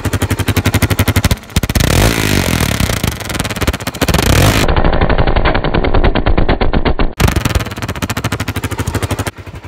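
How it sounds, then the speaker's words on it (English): Loud, rapid-fire popping and crackling from a motorcycle exhaust as the engine is revved, bursts nearly continuous with a couple of short breaks. "So it's like backfire pretty much every time you rev it up"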